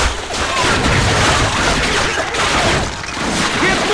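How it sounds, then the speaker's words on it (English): Machine gun fire in Call of Duty: Finest Hour, a loud, dense rattling barrage of rapid shots with booming battlefield noise, continuous and close. "The machine guns have started again!"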